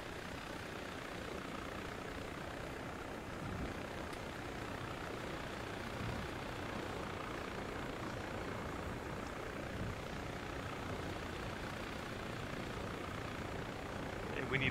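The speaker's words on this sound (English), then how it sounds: "Get to the chopper." Helicopter in the ArmA military game, a steady dense rotor and engine roar that fills the scene, holding constant with faint speech under it.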